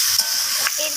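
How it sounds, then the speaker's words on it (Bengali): Ginger paste, green chillies and chopped gourd greens stir-fry in a pan, producing a steady near sizzle with a couple of brief scraping stirs. "এরপর সমস্ত কিছুকে নাড়াচাড়া করে এইভাবে একটু কষিয়ে নিতে হবে।"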